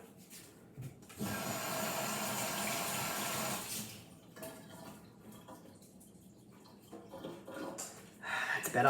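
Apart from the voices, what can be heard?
washing greasy hands under a running tap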